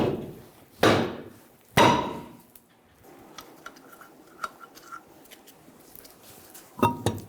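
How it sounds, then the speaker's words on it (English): A saw face hammer strikes the back of a stuck wheel rim on a 2000-2007 Ford Focus, two loud metallic blows about a second apart, followed by quieter ticks and a final knock. "Using a saw face hammer, we're going to hit the rim on the back."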